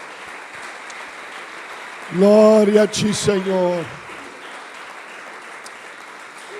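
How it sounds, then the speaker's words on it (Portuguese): Church congregation applauding during worship, a steady wash of clapping running under a voice that speaks and sings praise over it. "Um aplauso ao Senhor"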